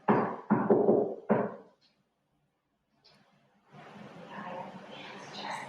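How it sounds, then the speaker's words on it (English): Someone knocks on a wall or door inside the Point Sur Lightstation: three firm, close knocks in quick succession, then silence, then a low, steady background murmur. "Okay, I'm going to knock, and can you finish the knock?"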